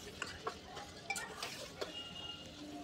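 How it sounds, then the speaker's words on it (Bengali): Spices such as coriander, cumin, chilli and turmeric are stirred with a spatula in a pan, making faint, intermittent metallic clinks and soft scrapes close by, with no voices. "এইভাবে আমি কষিয়ে নিচ্ছি।"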